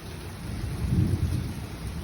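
A deep, rumbling roll of thunder swells and fades over steady rain noise, with no voices.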